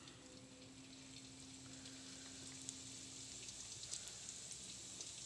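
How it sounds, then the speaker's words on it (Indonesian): Frozen donuts fry one at a time in hot oil with a soft, steady sizzling hiss and occasional tiny pops, quiet and continuous with no speech. "Oke mams, ini minyaknya udah panas. Kita mulai goreng ya, satu-satu ya."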